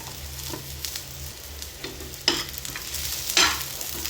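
Onion and coconut frying together in a pan for Satara-style village chicken curry, a continuous sizzle broken by a few louder stirring scrapes near the end, with no voices.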